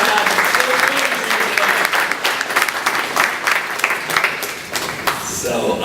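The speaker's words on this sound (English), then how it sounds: "let's give a round of applause for the new dad" A conference audience at a finance and tech event applauds for a new father, giving loud, sustained clapping from a sizable crowd with some voices mixed in and a slight tapering near the end.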